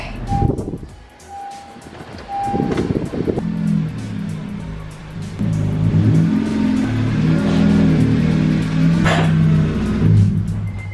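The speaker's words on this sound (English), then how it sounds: "Engine start." A Honda Civic engine cranks, catches, and settles into a steady running drone in a garage; a couple of short dog-like barks come early.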